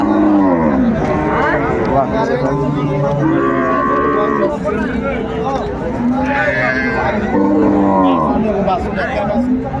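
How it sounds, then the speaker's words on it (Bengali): At Ambari cattle market, a dairy cow with her calf: a series of long moos, some close and loud, come through steady crowd noise, and people talk over them throughout. "চমৎকার গাভী বাছুর আমরা দেখছিলাম"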